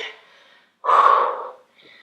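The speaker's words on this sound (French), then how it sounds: "on prend le temps de respirer" Heavy breathing during a bodyweight dips exercise in an upper-body circuit workout at home: one loud, close forceful exhale in the middle, with fainter breaths before and after.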